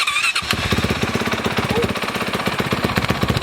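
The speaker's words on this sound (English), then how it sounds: "Freshly rebuilt. Let's get a cold start." Freshly rebuilt Honda CRF450R dirt bike cold-starting and idling up close, a loud, rapid, steady single-cylinder thump with sharp revs, running alone with no talk over it.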